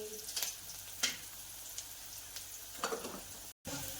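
Onions frying for bread pakora give a soft, steady sizzle in the pan, with a few light clicks and stirring taps and a brief dropout near the end.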